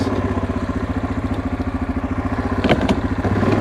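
Engine of a 2002 Yamaha Kodiak 400 ATV plowing snow, chugging in a loud, close, rapid steady pulse with a brief clatter near the end.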